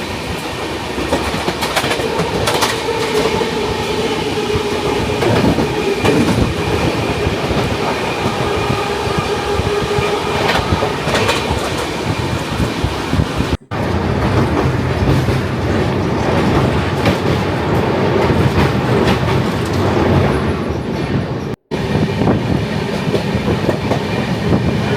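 An AP Express passenger train runs along the tracks with steady rumble and rhythmic clickety-clack of wheels, heard from inside the carriage, loud and continuous with occasional squeals and brief dropouts.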